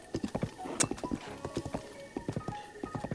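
A horse ridden by a Hylian in the video game Zelda Breath of the Wild clip-clops in quick hoof beats close by, and a brief high neigh cuts in near the start.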